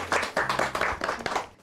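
A short burst of applause from a small studio audience on a Marathi TV show, quick uneven claps close by that fade out within a second or two.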